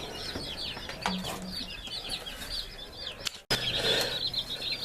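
A brood of Cornish Rock and darker multi-purpose chicks keeps up a steady, high-pitched peeping chorus with rustling, soft and close, broken by a brief clunk partway through.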